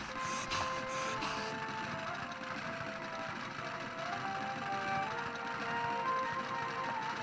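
A sewing machine whirs steadily in the Rule of Rose video game, a continuous mechanical hum lasting throughout, set among ambient game sounds with a few brief high chirps at the start.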